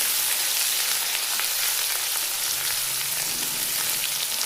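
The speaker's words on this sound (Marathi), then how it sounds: "छान 1 मिनिट परतून घ्यायचं आहे।" Ground green chili, garlic and ginger sauté in oil with mustard seeds for a paratha filling. A dense, even sizzle continues throughout at close range, with faint stirring scrapes and no talking.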